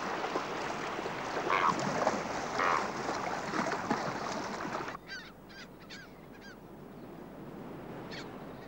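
Harsh braying calls of Magellanic penguins blare amid wind and noisy background in the Falklands, then fainter, higher squawks and cries follow in a calmer stretch.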